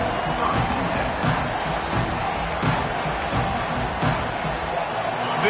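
A packed football stadium crowd roars continuously, a dense loud wall of cheering and shouting with rhythmic surges, heard alongside a commentator's voice.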